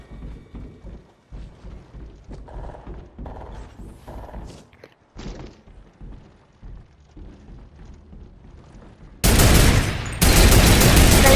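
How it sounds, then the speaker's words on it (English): Near the end, a mounted turret in a video game opens up with a loud, dense roar of rapid fire that pauses briefly and then resumes, following a stretch of quieter game noise. "Oh, mounted turret!"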